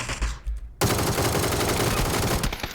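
Automatic gunfire in PUBG (PlayerUnknown's Battlegrounds), loud and close, with a few shots at first, then a sustained rapid burst that runs almost to the end.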